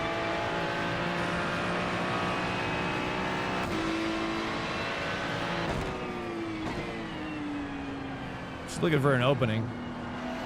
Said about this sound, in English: With that late downshift feels great there.